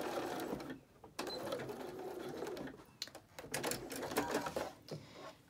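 A sewing machine topstitches close to the fold of a fabric face mask, its needle whirring in quick bursts with brief pauses between runs, close up and fairly quiet, with no voices.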